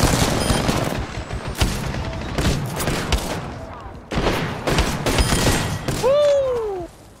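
Rapid bursts of automatic gunfire from an Apex Legends firefight, dense volleys of close, loud shots with brief gaps, then a rising, whining ability or effect tone near the end.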